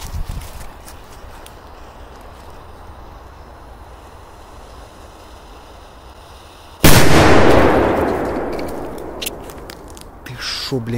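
A single sharp, loud Big Jumbo firecracker blast bursts suddenly after quiet outdoor ambience, its roar trailing off over a few seconds.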